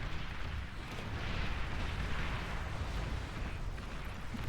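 D-gun fire and explosions in the real-time strategy game Beyond All Reason during an 8v8 battle: a continuous dense rumble of blasts and booms with no distinct individual shots.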